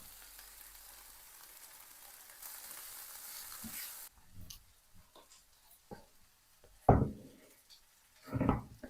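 Quiet frying hiss of onion and sausage for the first few seconds, then the sizzle cuts out, leaving a few soft clatters and louder handling knocks.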